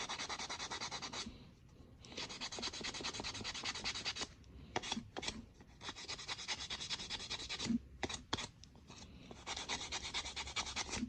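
Close, continuous rubbing and rasping as a balsa wood fishing bait is hand-sanded, in long steady strokes broken by brief pauses and a few quick light scrapes.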